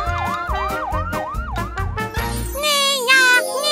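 A voice imitates a wailing ambulance siren in repeated rising-and-falling swoops, followed by higher, faster siren-like warbles with a jingling tone, loud and close.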